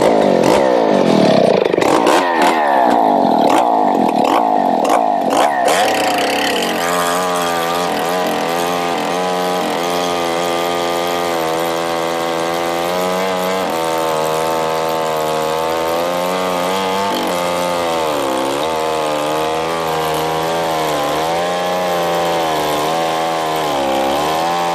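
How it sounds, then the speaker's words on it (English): A chainsaw mill rips through a tough log, slicing it into slabs of wood; the saw screams loud and close and steady under load, with rattling and clatter at the start before settling into a continuous high-pitched cutting whine. "that chainsaw mill"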